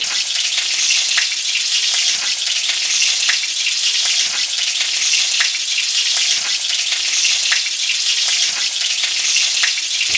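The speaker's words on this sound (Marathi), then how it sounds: "मिरची तडतडू लागलेली आहे" Green chillies crackle in hot oil as a tempering for a grated sweet potato dish, a steady, close, loud sizzle with fine popping that runs unbroken with no voices.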